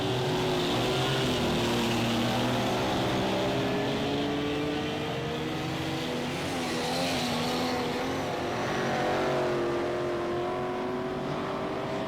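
Speedway cars race around the Waikaraka Park track at a 1997 Teams Nationals meeting, several engines droning and rising in pitch together, loud and continuous, with no commentary over them.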